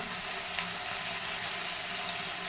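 Spice masala of chilli, turmeric, coriander and cumin powders with salt frying in a pan, a steady close sizzle and bubbling hiss with no talk.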